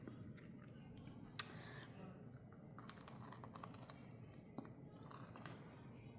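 Someone bites into a crunchy Biscoff-and-pistachio cookie-topped donut and chews it, faint close crunches and clicks with one sharper bite, quiet and without talk.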